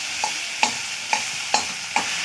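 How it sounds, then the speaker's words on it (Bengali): Metal spatula mashing boiled potatoes in a kadai: five sharp scraping taps at a steady, roughly half-second rhythm, close and clear, with a faint sizzle underneath and no talking. "এই খুন্তির সাহায্যে আমি আলুগুলো ভেঙে নেব"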